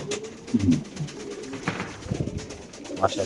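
Racer pigeons in cages coo softly nearby, a few low throaty calls spread across the moment with faint rustling between them.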